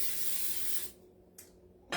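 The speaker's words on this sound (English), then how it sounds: "I have a little bit of olive oil spray here" Olive oil cooking spray hisses onto a pan in one sustained burst of nearly a second, followed by two quick, shorter puffs.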